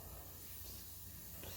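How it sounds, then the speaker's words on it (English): Aerosol brake cleaner hisses as it is sprayed onto an engine part being prepped for etch primer, a soft, steady spray heard close but fairly quiet. "I'm basically going to spray this down with brake cream"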